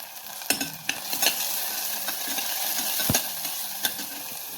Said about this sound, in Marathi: आता आपण बारीक केलेली हिरवी मिरची व लसूण